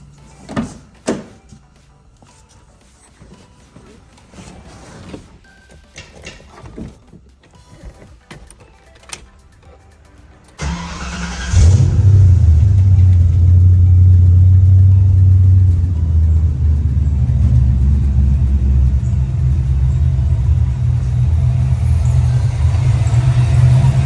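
Clicks and shuffling, then a Ford 5.0 V8 engine that runs poorly cranks and catches, settling into a loud, deep, rumbling idle that runs steadily and somewhat unevenly.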